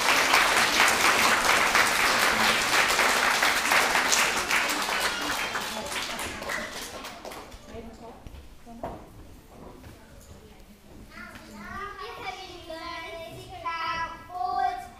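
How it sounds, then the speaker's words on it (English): Kindergarten assembly audience applauding loudly for about seven seconds, the clapping thinning and fading out, followed by children's voices and a little quieter activity. "A round of applause, please."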